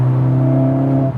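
A Mercedes-AMG A45 S accelerates hard from inside the cabin, its loud, steady engine tone holding under load for about a second before easing off abruptly.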